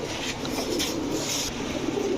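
Saharanpuri pigeons with cream-coloured eyes coo steadily and fairly close, their low murmuring calls overlapping in a continuous, dense flock sound with no talk.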